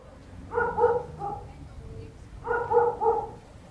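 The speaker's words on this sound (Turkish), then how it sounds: "sessizliği bir havlama bozuyor" A dog barks in the old town of Mardin at sunset, two separate clusters of barks a couple of seconds apart, moderately close against a low outdoor background.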